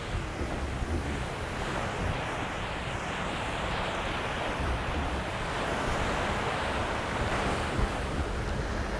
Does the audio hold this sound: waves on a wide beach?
yes